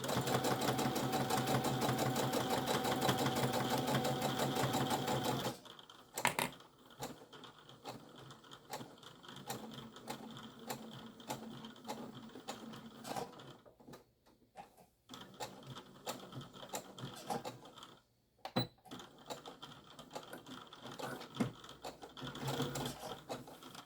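Sewing machine stitching a fabric tablet case, a steady fast motor whir for several seconds, then quieter stop-start stitching with pauses and small clicks, close by.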